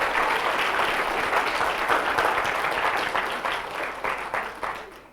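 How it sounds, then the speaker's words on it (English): A hackathon audience gives the coding teams a sustained round of applause, loud and dense at first, then gradually thinning toward the end. "a big round of applause to everybody"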